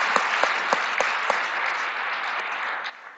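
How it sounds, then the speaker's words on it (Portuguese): Audience applause at a public forum, a full room clapping in a dense, even wash with a few sharper claps near the start, steady and fairly loud with no speech. "peço aplausos, por gentileza, senhoras e senhores"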